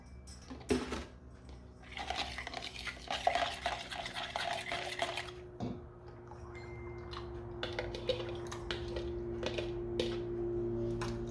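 A spoon stirring milk in a pot for Maltese gbejniet cheese, with clinking scrapes against the metal in a busy burst early on, then quieter intermittent taps over a steady low background hum.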